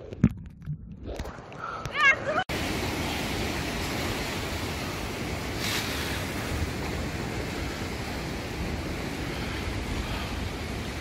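Ocean waves wash continuously beside a seaside restaurant on Jeju Island, a steady broadband surf roar with wind, preceded by a couple of seconds of quieter, separate sounds.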